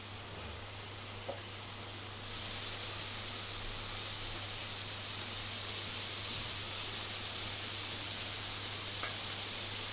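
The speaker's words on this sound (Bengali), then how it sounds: "তেলটা আমার গরম হয়ে এসছে, এবার আমি আস্তে আস্তে পনিরগুলোকে" Paneer pieces frying in hot oil, a faint steady hiss with a high sizzling edge that swells a little after a couple of seconds and then holds evenly, with a low constant hum underneath and no talking.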